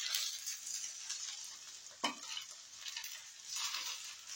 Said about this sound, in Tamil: அதுக்காக லைட்டா நம்ம எண்ணெயில பொரிக்கிறோம்